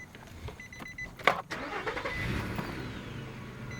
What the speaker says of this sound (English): So let's start it and listen to it.